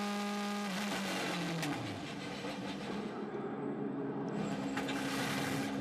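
A 470-horsepower V8 DTM race car at Lausitzring enters pit lane, its engine note dropping in pitch as it slows, then settling into a steady, loud mechanical drone with a brief rising whine near the end.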